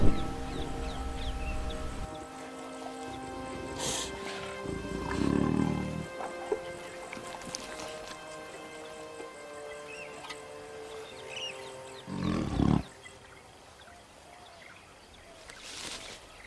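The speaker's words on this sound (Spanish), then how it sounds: "Otro tigre los está llamando." Cartoon tigers roar in a few separate bursts spread across the stretch. The roars rise over a sustained musical score and fade back under it between calls.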